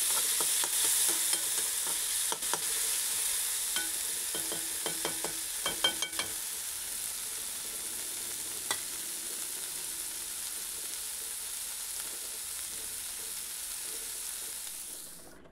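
Tomatoes and masala ingredients roast in a pan for an egg masala curry, giving a soft, steady sizzle with a cluster of light stirring clicks and scrapes early on, then quieter frying alone.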